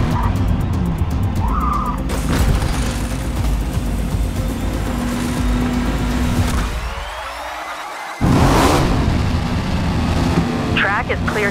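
Race car engine drone and tire noise from Forza Motorsport carry on loud and steady, with a brief dip and a sudden return near the end and a voice talking over the racing.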